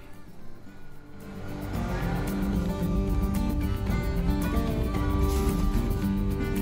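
Jeep Wrangler JL crawling off-road in first gear at Tahuya OHV Park, a steady close engine drone that rises and holds loud, with faint crunching of terrain.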